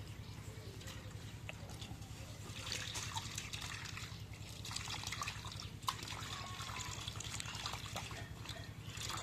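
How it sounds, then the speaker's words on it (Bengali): Water runs and trickles steadily while carrots are washed in a kitchen, a constant faint splashing with a low hum underneath and one brief knock midway. "এখন গাজরটা ধুয়ে নেই।"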